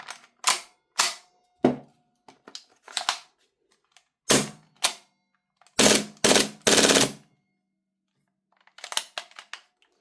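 An airsoft MP9 gas blowback gun firing off its remaining BBs in short bursts and single sharp cracks, loud and close, with pauses between, the later shots weaker as the gas runs low.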